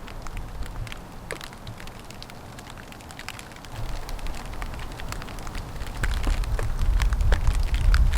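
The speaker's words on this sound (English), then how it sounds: "it is cold and rainy and windy" Rain patters and crackles outside a pickup-truck camper on a cold, wet, windy day, a soft steady spatter of drops that grows heavier and louder toward the end, with no voices.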